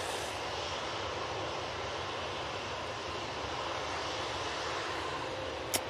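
Airliner jet engines roar in a steady, broadband drone during departure, heard from a distance and moderately faint, with a brief click near the end.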